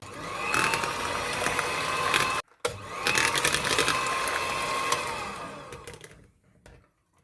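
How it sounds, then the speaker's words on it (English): A blender whirs loudly in two bursts separated by a short stop, its motor straining as it purees bananas, then winding down to quiet. "I'm just gonna smash the bananas more using this blender"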